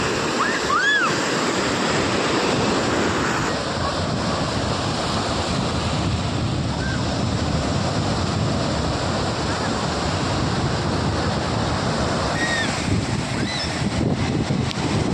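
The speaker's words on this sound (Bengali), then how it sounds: "দেখতে পাচ্ছেন এই গর্জন সমুদ্রের" Roaring sea waves on the Sri Lankan coast, a continuous heavy surf rumble with crashing swells and wind buffeting the microphone, loud and close throughout.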